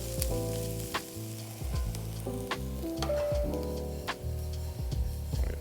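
Flour cooks into a light roux in a pan, giving a steady sizzle with scattered ticks and scrapes from stirring.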